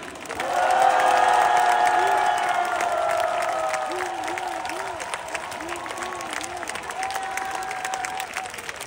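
Audience applause at a Korean Democratic Party presidential nomination event, steady and fairly loud, swells quickly and then gradually tapers, with cheering and a voice carrying over the crowd.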